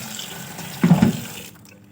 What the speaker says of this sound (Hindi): तो अब हम इसको अच्छी तरह धो लेते हैं।